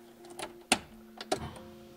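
A Honda EF sedan's fuel pump primes after the battery is connected: a faint, steady low hum with a few sharp clicks and brief mechanical bursts, heard alone without talk.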